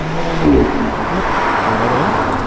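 A straight-piped Audi R8 roars loudly and steadily throughout, its engine note rising and falling as it is driven hard, heard close up with no talking.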